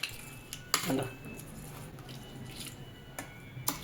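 A spoon mixing tomato chutney with chilli, curry leaves and mustard seeds gives a few faint metallic clinks and scrapes against the dish over a quiet background.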